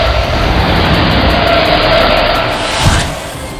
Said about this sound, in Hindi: मनोज गाड़ी को तेज रफ्तार से लेकर जा रहा है